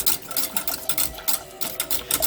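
BBQ sauce ingredients, including ground salt, being mixed in a bowl: quick, close, rhythmic scraping strokes repeating steadily with no talk.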